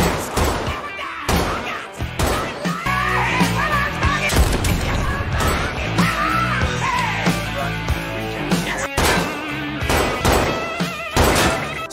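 Repeated sharp pistol shots crack out at irregular intervals between stretches of music and noise, loud and close, fired during target practice in a home garage in a film.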